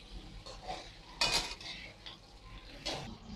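Beef trotters (paye) fry in a pot as a metal spoon stirs them, giving bursts of scraping and clattering over a faint, low sizzle.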